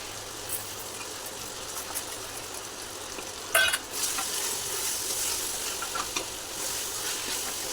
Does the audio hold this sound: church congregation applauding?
no